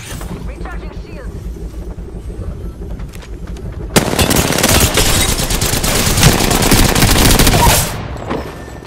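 Dense, loud bursts of automatic gunfire from an Apex Legends match, rapid shots rattling for several seconds after a quieter stretch of background game noise.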